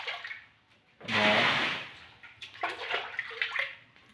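Water poured and sloshing during washing at home, a broad splashing burst that swells, then continues in uneven splashes and trickles, close and fairly loud with no talk.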